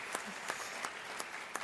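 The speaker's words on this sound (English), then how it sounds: "Give her a round of applause for that also" Audience applause at a conference on inclusive excellence: short, moderately faint crowd clapping with a few sharper accents standing out at regular intervals.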